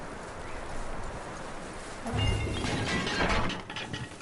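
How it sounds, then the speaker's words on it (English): Horse hooves clip-clop in the Red Dead Redemption 2 video game, a steady run of hoof falls that grows louder and busier midway through, mixed with other game sounds. "That looks like a decent horse."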